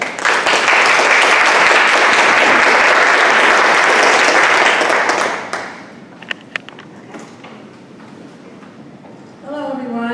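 Museum audience applause at the Berlind Symposium at the Maier Museum of Art, Randolph College: a dense, sustained roar of clapping from a large crowd lasting several seconds, fading into scattered claps before a voice begins speaking.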